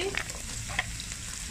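Shallots fry in hot oil for a sardine curry, giving a soft, steady sizzle close by with a couple of faint stirring clicks, brief and without talk.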